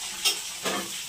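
Garlic frying in hot oil for schezwan rice, a steady sizzle with two brief bursts of stirring or spattering, close and fairly loud.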